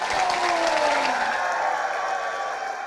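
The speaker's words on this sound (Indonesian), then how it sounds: "Tepuk tangan sekali lagi." Campus event crowd in an auditorium claps and cheers for a guest, a dense, loud wall of applause with some whoops that stays full throughout and eases only slightly at the end.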